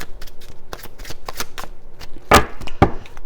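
Close, crisp riffle-and-snap bursts of tarot cards being shuffled, repeated in quick irregular bursts with a couple of louder flutters near the end.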